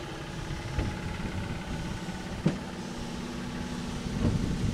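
A low, steady engine hum carries a boat along the Alleppey backwaters, fairly faint and constant, with a few soft knocks over it.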